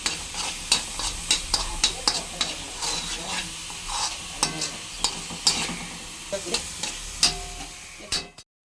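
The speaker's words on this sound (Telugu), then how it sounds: "యాలకుల పొడి వేసుకుని మిక్స్ చేసుకుందాం." Coconut laddu mixture with cardamom powder is stirred in a hot pan, giving rhythmic scraping strokes over a steady sizzle, close and fairly loud.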